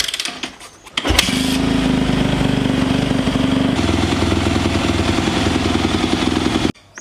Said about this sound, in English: So we'll just quickly do that now. We'll start the bike.